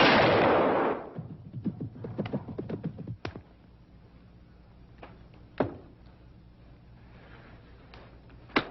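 A hunting rifle fires in a 1952 film scene on safari, one loud sharp shot at the start echoing and rolling away, followed by quieter distant knocks and thumps.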